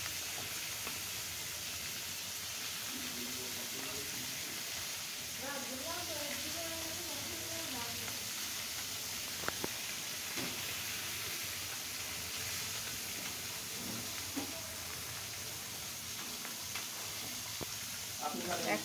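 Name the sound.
oil heating and sizzling in a cooking pan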